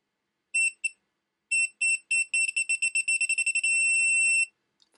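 A GOYOJO 3/8-inch drive digital torque wrench set to 15 gives a few short separated high beeps, then a quickening run of pulses that merges into one steady tone, loud and close with no talking.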